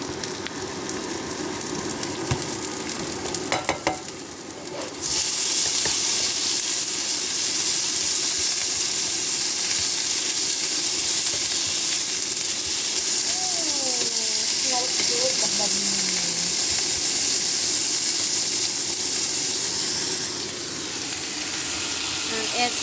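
Marinated pork with Chinese cabbage, jalapenos, salt and pepper stir-fries in a pan with a loud, continuous close sizzle and hiss that jumps up sharply a few seconds in, joined by occasional stirring clatter and brief speech.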